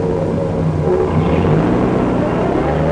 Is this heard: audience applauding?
no